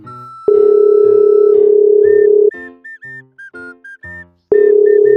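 A loud, close electronic phone tone is heard while calling for a ransom: long steady tones broken by a string of short, clipped beeps.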